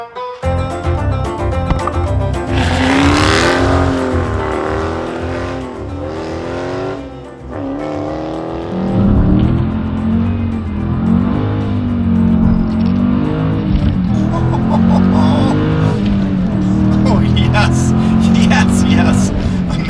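A Dodge Challenger R/T Scat Pack Widebody with a manual gearbox revs and accelerates hard, loud deep engine roar rising and falling through gear changes, with tire noise, sustained over twenty seconds.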